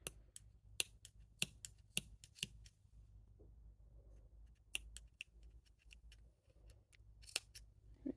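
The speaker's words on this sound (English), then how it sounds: "I'm going to cut this out really quick" Sewing scissors snip through fabric while cutting out a pattern piece for a hoodie or joggers, giving sharp, close clicks in quick clusters with quieter pauses between them and no voices.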